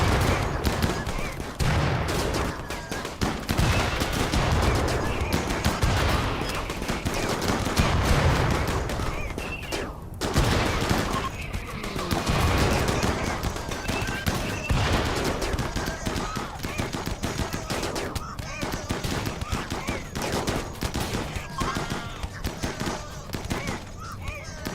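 Dense bursts of video game gunfire aimed at an enemy rattle almost continuously, rapid shots layered into a chaotic fusillade, with people talking over the shooting.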